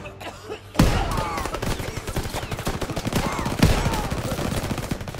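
Rapid bursts of shotgun fire in a Call of Duty WW2 firefight, a sudden loud blast opening a dense run of repeated shots and booms, with a second heavy blast midway and no talk.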